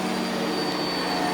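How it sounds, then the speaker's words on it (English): A vacuum cleaner roars continuously at close range over a 50:50 wool and silk area rug. The broadband whoosh is steady and carries a faint high whine, with no voices. "cross vacuum this and the other one, try to get as much of the dry soil out first"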